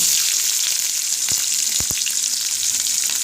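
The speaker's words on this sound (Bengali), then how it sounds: "একটু আগে জিরেটা ভাজা ভাজা করে নিই" A bright, steady sizzle of cumin seeds frying in hot oil, with a few soft knocks of a utensil against the pan.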